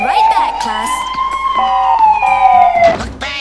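Wailing siren from an ambulance in an animated cartoon, a loud rising and falling tone sweeping across a few seconds, mixed with other cartoon sound effects.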